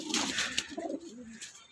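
Soft, low cooing from Parwazi pigeons nearby, a warbling rise and fall over a faint rustle of background noise.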